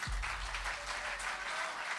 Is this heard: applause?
yes